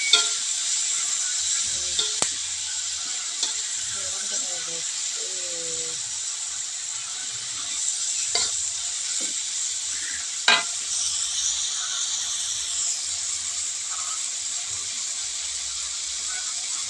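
Pindang fish stirred in a hot pan over a soft steady sizzle, with scattered scrapes and clacks of the utensil, one sharper knock midway, and a faint voice briefly murmuring in the background.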